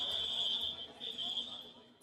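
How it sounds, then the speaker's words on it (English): A door alarm sounds at a secure-area gate in Dubai airport, a steady high-pitched electronic tone ringing continuously throughout, loud and close, with faint background chatter beneath it. "a door alarm working normally as the inspection crosses secure areas"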